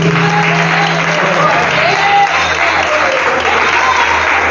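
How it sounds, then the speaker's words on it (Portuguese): A church congregation breaks into sustained, dense applause that carries on without a break for several seconds, filling the room at close range with a few voices audible underneath. "E você que crê, aplaude Deus."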